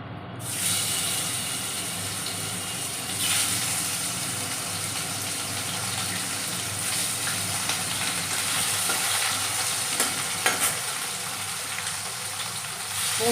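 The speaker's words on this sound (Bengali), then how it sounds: "মাছগুলো ছেড়ে দেবো, আমি মাছগুলো ভাজা ভাজা করব।" Fish frying in a pan give off a steady, close sizzle and hiss that runs unbroken for the whole stretch, with faint crackles now and then and no voices.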